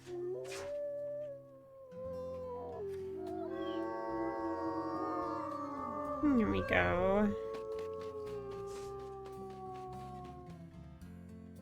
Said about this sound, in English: Let's do a howl.